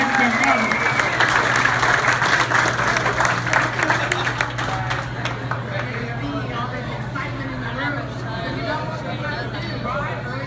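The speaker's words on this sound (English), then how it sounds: "Let's give her a big round of applause." Crowd at a political gathering in Houston applauding a judge, loud clapping and cheering that thins out into background chatter while a low steady hum runs underneath.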